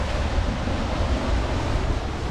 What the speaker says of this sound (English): Pretty good waves coming in.